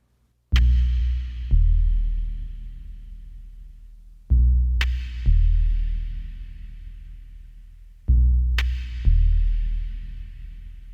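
Three deep percussion drops, each a heavy low boom with a sharp crack followed by a second hit, decaying with a long reverb tail.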